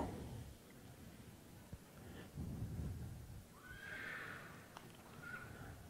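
A brown Canadian sport horse filly at a sale neighs, a rising whinny that rings out clearly over a low rumbling background with a few faint thuds.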